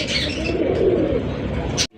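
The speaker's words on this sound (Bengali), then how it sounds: "দর্শক বন্ধুরা এখানে রয়েছে আরো একজন রেসার কবুতর" Racing pigeons coo close by in low, rolling murmurs, with a few higher chirps mixed in, before the sound stops suddenly.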